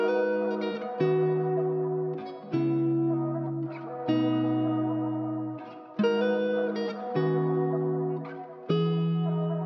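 A looped guitar part treated with EQ and reverb plays alone, several sustained chord phrases repeating in a steady cycle with swells and gentle decays, close and fairly loud.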